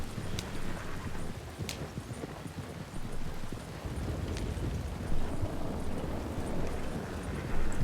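In a western roleplay video game, a horse's hooves clip-clop steadily and close for several seconds, a continuous trotting rhythm over low rumbling background noise.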